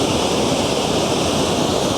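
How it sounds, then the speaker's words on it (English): Myra Falls, a tiered waterfall with three or four drops, roars as a steady, dense wash of rushing water that fills the whole moment without pause or voices. "It truly is a spectacular waterfall."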